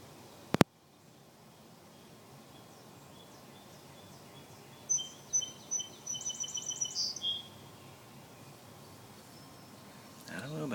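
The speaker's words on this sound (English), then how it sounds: "What's the bird doing, Molly? What's the birdie doing" A small bird gives a run of quick, high chirps over a quiet background, faint and moderately close, preceded by a sharp click.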